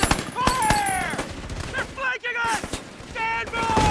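Gunfire crackles in a night battle scene from a World War II Pacific TV drama, rapid bursts and single shots overlapping with whizzing sounds and shouting voices, loud and chaotic throughout.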